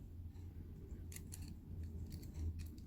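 Craft scissors snip through thin metal bezel wire in a few sharp, bright clicks, close by against a steady low background hum with no talking.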